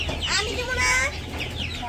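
Chickens clucking at feeding time in a Bangladeshi village yard, a dense flock of overlapping clucks and squawks held steady at close range, with some background talk mixed in.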